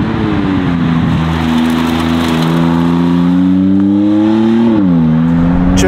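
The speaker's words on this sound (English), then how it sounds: "there's 3-liter twin turbocharged V6 engine" A Maserati MC20 with a 3-liter twin-turbo V6 and Novitec exhaust revs loud and close, holding a steady droning pitch that climbs slowly, then dips and rises again.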